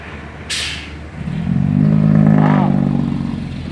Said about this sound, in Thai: สับเกียร์กันสับเกียร์กัน ลั่นทุ่งนะท่อ FX Z 3